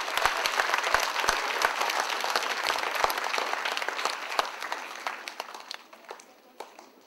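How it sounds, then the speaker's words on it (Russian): Audience applause at a children's fairy-tale festival event, many people clapping at once with sharp individual claps standing out, gradually thinning and fading toward the end. "Давайте мы его тоже поприветствуем аплодисментами."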